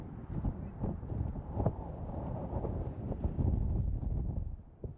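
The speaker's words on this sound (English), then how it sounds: "I think it's windy out here." Strong wind outdoors at Meaher State Park, Alabama, near the water, buffets the microphone with a steady low roar and gusty rumbling for the whole stretch, with no speech.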